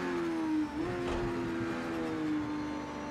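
A damaged car in a racing video game limps back toward the pit, its engine giving a steady, whirring tonal drone that dips briefly in pitch before holding level, alone without speech.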